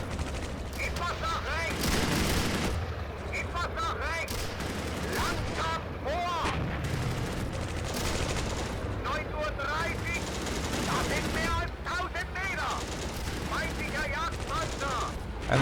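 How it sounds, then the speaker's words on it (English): Panzerschreck anti-tank rockets firing at enemy tanks in the WWII tank game Steel Fury, heard as dense, loud battle noise with repeated gunfire and blasts throughout, plus a voice talking over the action. "Okay, Panzer Shrek shooting."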